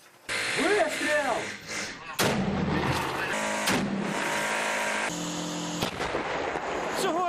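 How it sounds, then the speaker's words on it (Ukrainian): Heavy booming artillery blasts and sharp cracks go off one after another, loud and close, amid rumbling tank engine noise, during a battle at Donetsk airport. "За кілька хвилин в аеропорту лунають десятки вибухів."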